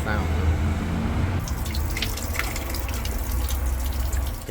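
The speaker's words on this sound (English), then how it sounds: "It's a water fountain." A water fountain in a city park in Paris splashes and gushes steadily, with a continuous watery rush and scattered drips close by, while people talk in the background.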